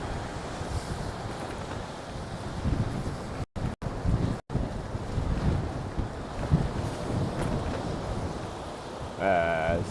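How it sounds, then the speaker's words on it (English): Strong wind buffets the microphone during a bike tour in South Korea, a steady broadband roar with rumbling gusts throughout, brief dropouts midway and a faint tonal sound near the end. "Especially with that wind."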